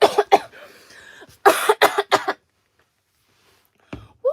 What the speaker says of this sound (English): I'm gonna let out a really hard cough so I don't need to cough anymore.